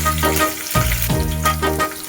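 Garlic and green chillies frying in mustard oil crackle with a bright, close sizzle, interrupted by a couple of soft scraping stirs, with no voices.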